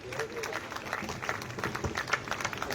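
An audience at a college convocation ceremony applauds with a steady patter of clapping. A voice speaks over the clapping throughout.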